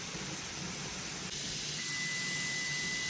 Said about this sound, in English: It'll just be steaming and then not steaming, but this is steady.